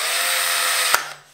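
The chuck of an AI works drill whirs and ratchets open in a dense, loud mechanical buzz that ends with a sharp click, then trails off.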